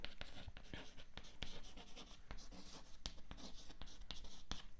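Chalk or marker writing on a board during a physics lecture on rolling motion: quick scratchy strokes and taps in an irregular rhythm, fairly close but quiet, with no talk over them.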